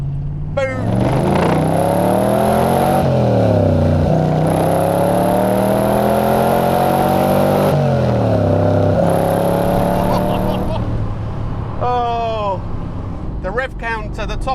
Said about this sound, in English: it's an incredibly torquey engine, and revving it through